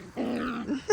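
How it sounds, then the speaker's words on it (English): A six-week-old puppy gives a short, close, nasal growl that rises into a whiny yip at the end, brief and loud. "Are you growling at me?"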